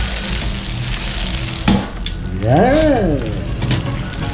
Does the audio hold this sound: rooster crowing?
no